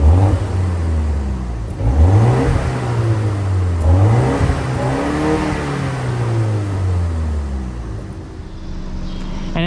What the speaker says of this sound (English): Quad beam exhaust over here at the back, looks really nice. I will go ahead and play a clip of that right now.